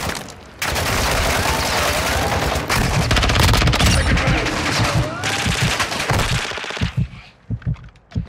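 Dense automatic gunfire and bursts in a Call of Duty DMZ firefight, loud and sustained for most of the clip, thinning to scattered single shots near the end.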